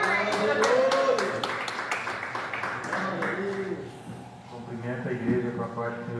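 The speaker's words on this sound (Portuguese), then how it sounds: "Vamos estar recebendo nosso irmão Olinho com palmas bem alegres." A church congregation claps cheerfully to welcome a member during a Portuguese-language service, steady applause with bright hand claps over the first half while a preacher keeps talking and singing voices follow.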